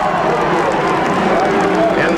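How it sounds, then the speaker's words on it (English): A huge crowd at the 1992 Indy 500 cheers Michael Andretti, a dense, steady roar filling the whole stretch while a voice talks over it. "You can hear the people cheering him right now."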